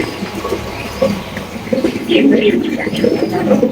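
Oversized pigeons cooing close by at a pigeon farm, low throaty coos with some scuffling, under a voice talking.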